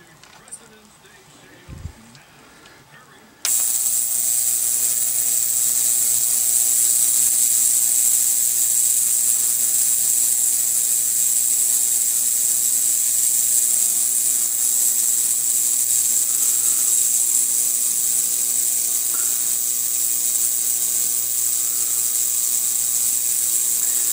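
After a few quiet seconds with small handling clicks, an ultrasonic cleaner switches on with aluminum foil suspended in its tank, producing a loud, steady high-pitched hiss and buzz that continues unchanged to the end.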